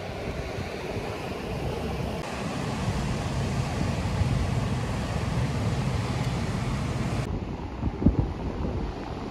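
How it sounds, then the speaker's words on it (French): Steady wind and rolling ocean surf on the Moroccan shore, a broad continuous roar with wind buffeting the microphone throughout and a brief knock near the end, with no voices. "là je suis au bord de l'océan, comme vous l'entendrez"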